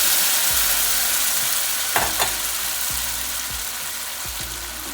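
Fresh tomatoes and garlic sizzle and fry in a pan, a steady crackling hiss broken by a few sharp pops and stirring clinks, close and alone.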